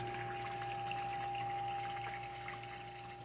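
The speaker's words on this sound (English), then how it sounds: "Once the water goes through the filtration system, it hits a dart motor and it'll pump back up into the corners of the tank." The filtration pump on a massive 12-foot aquarium drives water back up into the corners of the tank, a steady motor hum with a tonal whine under continuous trickling and rushing water.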